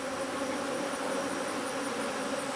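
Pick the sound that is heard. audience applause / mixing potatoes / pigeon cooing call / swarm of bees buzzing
swarm of bees buzzing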